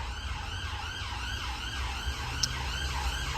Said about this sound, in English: Look at that, bloody sirens